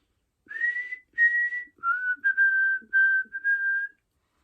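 A person whistles an imitation of a repetitive birdsong: about seven short, clear whistled notes in a steady sing-song pattern, close and alone, with faint breaths between them.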